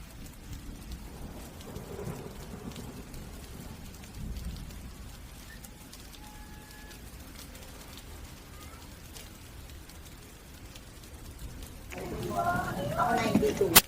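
Steady rain falls outdoors with broad hiss through the whole stretch, growing heavier near the end, and a faint low rumble suggests distant thunder during a storm.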